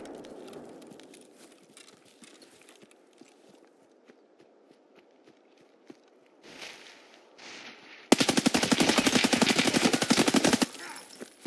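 A PP-19 submachine gun in a video game fires a long, loud continuous burst of rapid shots, preceded by quieter footsteps and movement.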